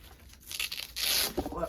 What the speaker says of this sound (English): Let me unwrap it real quick.